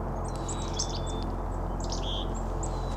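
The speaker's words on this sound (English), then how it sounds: "So those are the woodpeckers." Small woodpeckers calling outdoors, a string of brief high chirps and squeaky notes scattered over a steady background hiss, fairly faint and without any talk.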